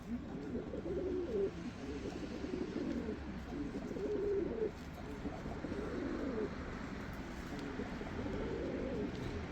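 Pigeons in a showroom coo in low, repeated throaty phrases, several birds close by, with a steady murmur of background noise.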